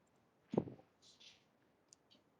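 A single sharp computer mouse click sounds close and quiet, followed by a few fainter ticks in an otherwise near-silent room.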